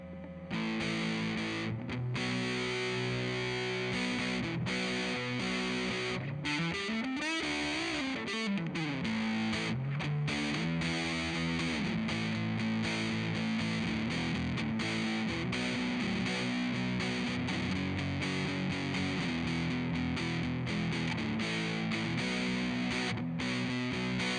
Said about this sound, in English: I got an MXR Custom Badass 78 Distortion.